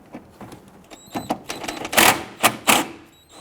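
A 10mm bolt on the back of a Toyota RAV4 front bumper is loosened and removed with a ratchet, a run of quick clicking ticks growing louder and denser, close and alone.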